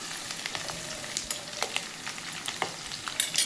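Onions frying in a pan for an egg tomato curry, stirred with a spoon: soft steady sizzle with scattered scraping clicks of the utensil against the pan, close and moderately loud, no talking.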